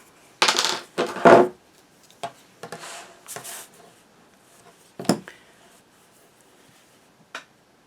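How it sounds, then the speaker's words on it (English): A paper tab for a mini album page is cut on a cutting mat: several sharp snips and clacks in a short burst near the start, then a few scattered crisp cuts and taps, close and fairly loud with quiet gaps between. "we're just going to cut off, cut at the line."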